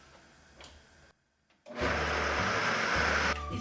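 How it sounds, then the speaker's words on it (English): A blender whirs through a nut-free vegan cheese sauce. After a brief quiet pause, the motor kicks in as a loud, steady roar that lasts about a second and a half, then cuts off. "I'm going to just blend one more time because I want to make sure everything is really well blended."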